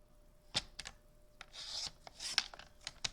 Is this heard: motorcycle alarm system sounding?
no